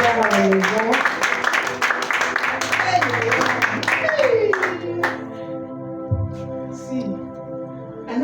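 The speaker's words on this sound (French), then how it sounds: "I not see where you are clapping like that" A church congregation claps at a ministry service, a loud, dense patter of many hands that runs for about five seconds and then fades, while a voice speaks over it and lingers after.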